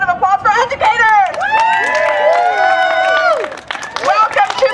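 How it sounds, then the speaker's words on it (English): A crowd at an education rally cheers, whoops and claps for educators, with loud voices rising together in a lively burst that fades and then picks up again. "Let's have a round of applause for educators!"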